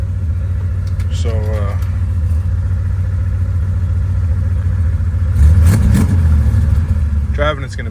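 A Plymouth Road Runner fitted with Aces EFI sends out a steady, loud low engine rumble that swells briefly in a rev near the end, with someone talking over it.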